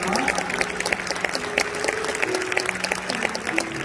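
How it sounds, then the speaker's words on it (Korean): Steady applause from a sizeable crowd at a graduation ceremony fills the whole stretch, dense clapping with no pauses and a faint musical tone running underneath. "큰 박수로 축하해주세요"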